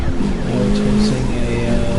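Black Corvette Stingray racing in Need for Speed Rivals, its engine roaring steadily with shifting pitch, loud and up close, while someone talks over it.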